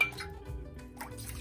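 Water is poured into a measuring cup, about one and a half cups, for cooking semolina kakara; a short, soft trickle with a few splashy bursts, close by and alone.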